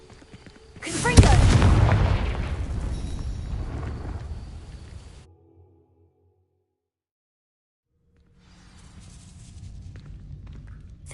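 A Confringo blasting spell explodes against dry vines in Hogwarts Legacy, one loud booming burst that rumbles and decays over a few seconds, then silence before a quieter rumble returns.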